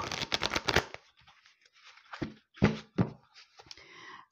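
Tarot cards riffled and shuffled close by for a reading, a quick flurry of crisp card slaps at the start followed by a few softer separate taps and shuffles.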